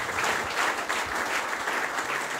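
Continuous clapping from an audience at a public reading, a dense, even patter of many hands at moderate distance.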